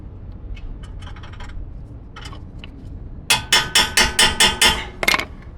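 A socket wrench on a long socket strains against a seized 14 mm ball joint bolt, sounding as a few faint clicks followed by a rapid series of about eight sharp, loud metallic ratcheting knocks.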